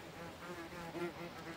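Wasps buzz around picnic food beside a lake during a fishing trip, a faint, steady, wavering drone that rises and dips as they hover close by.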